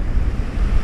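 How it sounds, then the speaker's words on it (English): Wind and calm surf rush steadily at the shore on a low-tide morning of fishing for blue trevally, a continuous low roar with no talk. "I've got a little bit of wind coming. The waves look pretty calm"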